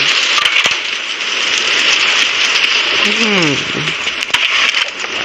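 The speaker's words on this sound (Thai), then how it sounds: "ตอนนี้ฝนตกหนักครับผม และเสียงมันน่าจะดังมากด้วย" Steady loud hiss of heavy rain drumming down in the Roblox game Doors, dense and constant throughout, with a brief sliding tonal sound partway through.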